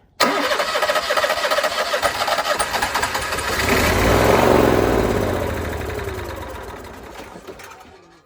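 An Onan Marquis Gold 5500 generator engine cranks and starts during troubleshooting, a steady rapid mechanical chatter that swells into a louder running roar midway, then eases slightly, heard close and alone.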